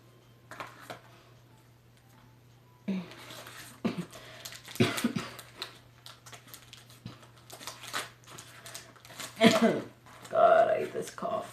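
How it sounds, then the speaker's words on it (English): Several short coughing bursts from one person indoors, loud and close, scattered irregularly over a steady low hum, with quieter tapping and rustling in between. "God, I hate this cough."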